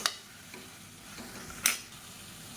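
Radish slices are sautéed in oil, a quiet steady sizzle broken by two or three sharp scrapes of a spatula against the pan.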